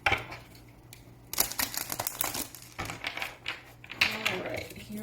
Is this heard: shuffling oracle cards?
yes